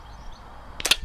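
A Hatsan Gladius air rifle fires a pellet in a single sharp, close crack near the end, after a stretch of quiet background.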